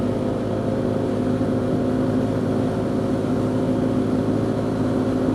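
A 1999 Polaris Sportsman 500 ATV runs at about 50 mph near top speed, its engine giving a steady, loud drone with a low hum and rumble that holds evenly from start to finish, with no talk over it.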